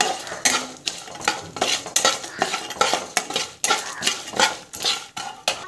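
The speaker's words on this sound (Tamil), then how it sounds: "ஸோ மிளகாத்தூள் வந்து ஆட் பண்ணுறோம். ஸோ நல்லா வதக்கிக்கலாம்." Chili powder and masala are sautéed with lentils in a pan, a spoon scraping and clattering against the metal in rapid rhythmic strokes, roughly two per second, over only a faint sizzle.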